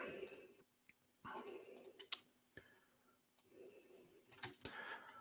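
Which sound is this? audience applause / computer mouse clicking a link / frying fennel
computer mouse clicking a link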